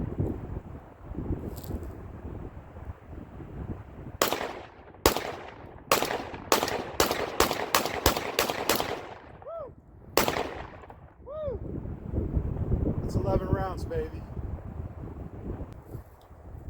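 A Panzer EG200 shotgun with an extended magazine fires ten rounds plus one in the chamber outdoors, a quick string of loud sharp blasts with short echoing tails against wind, followed by quieter clattering.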